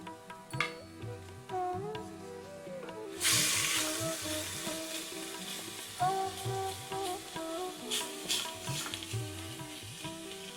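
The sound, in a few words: lamb browning in ghee in a pan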